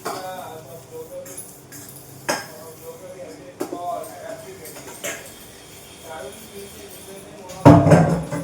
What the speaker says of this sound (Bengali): বাসনগুলি এখানে ধুয়ে নিব